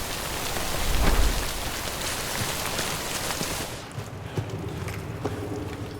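Steady heavy rain in the video game Death Stranding hisses continuously, with a low rumble early on, then eases slightly into a lighter patter of drops.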